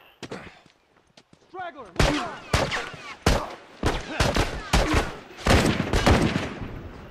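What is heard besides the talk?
gunshots in the video game The Last of Us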